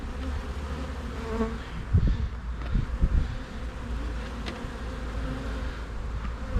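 Honey bees buzz steadily around an opened hive tower during an inspection, a dense continuous hum close to the microphone with a few louder passes of bees flying near, no voices.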